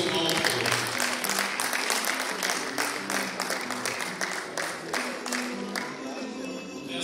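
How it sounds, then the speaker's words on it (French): Audience at a club's merit diploma and certificate ceremony claps steadily for several seconds, a dense, even applause that fades slightly toward the end, with faint voices underneath. "est-ce que nous pouvons applaudir fortement?"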